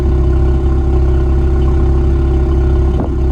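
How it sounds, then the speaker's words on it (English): A 2024 Ford Mustang EcoBoost sits at a warm idle, its engine giving a steady, even low rumble with a faint clatter on top, loud and close, no voices. "The idle sounds fantastic on this car."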